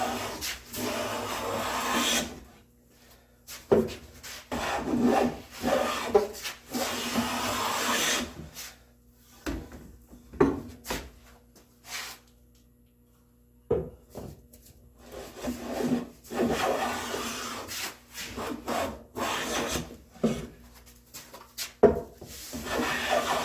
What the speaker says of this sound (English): I think I'm going to take a full width shaving.